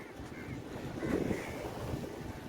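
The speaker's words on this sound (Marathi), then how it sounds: "वारा पण मस्त सुटला आहे" Wind rushes and buffets against the microphone in a continuous low roar at Marve Beach, Malad, with faint surf-like wash underneath; no talking.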